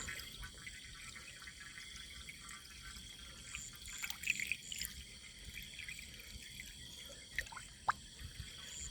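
Quiet trickling of water running into a container in a durian orchard, with a few small splashes and drips standing out near the end.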